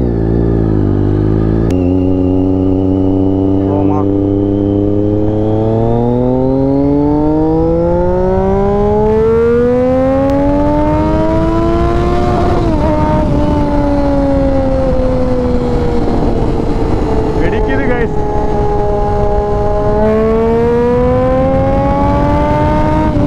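Triumph Daytona 675 with a modified exhaust revving and accelerating through the gears, loud and close, engine note climbing in pitch, dropping at each shift, then rising again.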